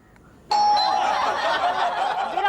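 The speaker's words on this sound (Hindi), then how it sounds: "घंटी बजा। घंटी? ओह," A doorbell rings with a bright, sustained chime that starts sharply and holds, with faint chuckling underneath, in a Hindi TV comedy scene.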